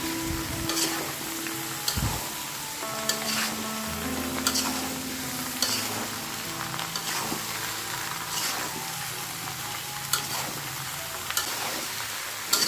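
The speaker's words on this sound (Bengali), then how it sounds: "রসুন ভাজা হয়ে গেলে আমি টুকরো করা আমগুলো দিয়ে কিছুক্ষণ ভেজে নিব।" Raw mango pieces fry with garlic in oil for a sour-spicy-sweet mango pickle, giving a steady, close sizzle with scraping stirs and clinks throughout, no voices.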